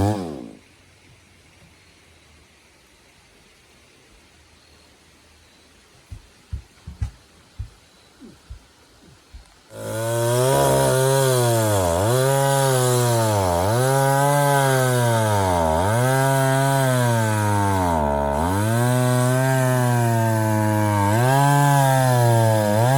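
A chainsaw cutting hardwood firewood in the Appalachian Mountains starts after a few quiet knocks, then roars loud and close, its pitch rising and falling in repeated surges as it bites into the wood.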